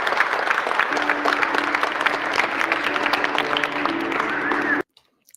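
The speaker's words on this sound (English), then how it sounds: "I actually saved the sound because I felt like maybe I could use the clapping at some point." Wedding guests clap together in a lively, dense round of applause at close range, brisk and steady for several seconds before cutting off abruptly into silence.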